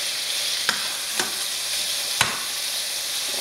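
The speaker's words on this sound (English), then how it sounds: "So I'm gonna go ahead and turn these burgers over." Burger patties sizzle in a hot pan with a loud, continuous hiss, and a few sharp clicks and scrapes of a spatula sound as the patties are turned.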